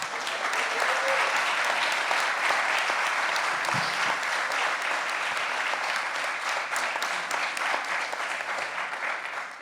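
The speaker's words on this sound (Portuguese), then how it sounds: "palmas para o Walter Firmo." An audience at an exhibition opening gives a steady round of clapping, dense and sustained at moderate distance throughout.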